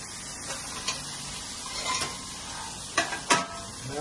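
A whole roast chicken is turned over in a hot pan, with a soft steady sizzle under a few scraping and clanking knocks of metal utensils against the pan, the loudest bumps near the end.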